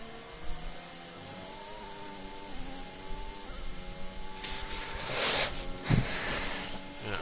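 A racing car engine on a flying lap around Zandvoort in a Formula 4 sim racing game, a faint steady engine whine with rising and falling pitch, followed by a louder burst of revving near the end.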